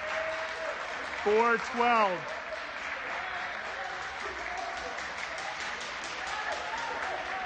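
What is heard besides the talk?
basketball team benches clapping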